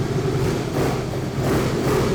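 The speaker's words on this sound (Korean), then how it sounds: "지금의 머플러의 사운드는 순정 머플러의 사운드" A 2017 Harley-Davidson Breakout CVO idles with its variable exhaust in stock-muffler mode, giving a steady, fairly quiet low rumble that holds constant for a couple of seconds.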